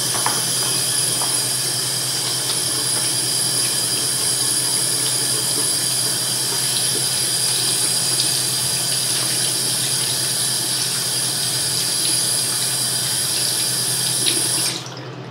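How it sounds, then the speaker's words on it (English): Water runs steadily from a tap into a sink during handwashing, a loud, continuous close hiss and splash that holds throughout and cuts off at the very end. "I'm going to also wash my hands first."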